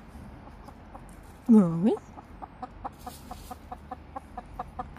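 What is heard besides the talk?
hen clucking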